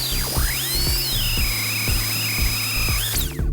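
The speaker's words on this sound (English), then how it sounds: "So the Dremel gun can only kind of do so much with it" A Dremel rotary tool sands a copper straw with a high, whining spin that rises and falls steadily in pitch, punctuated by rhythmic low thumps about every half second, close and loud.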